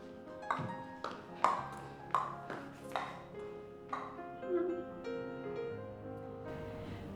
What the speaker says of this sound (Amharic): ስልክ ጠራ